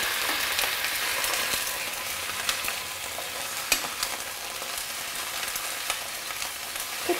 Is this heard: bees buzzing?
no